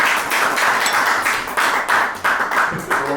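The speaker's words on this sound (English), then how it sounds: "Round of applause to Desmond." A small group claps for a few seconds, the applause uneven and close by, tapering toward the end.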